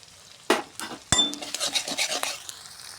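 Chopped tomato added to frying onions in a pan, with a sharp metallic clink of a utensil against the pan, then scraping stir strokes over a light sizzle.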